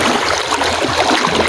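Swift, heavy current of the Persahabat river rushing steadily, a dense broadband wash of water with no pauses, close and loud.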